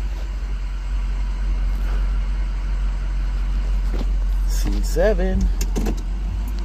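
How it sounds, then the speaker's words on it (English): A truck engine left idling, a steady low rumble running the whole time while a person talks nearby and brief rattling and clicking sounds break in near the end. "I don't want to turn my truck off because this might not start."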